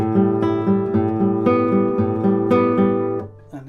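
Slow acoustic guitar fingerpicking pattern, one hand only, with evenly spaced plucked notes ringing over a steady repeating bass and treble figure, close and clear with no voices.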